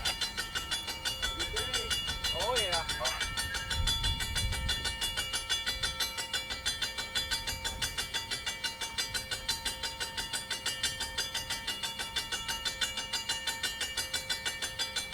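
A short line train on the Central Indiana & Western Railroad rolls past in a steady, rhythmic clatter of wheels, with a crossing bell ringing throughout. One voice speaks briefly near the start.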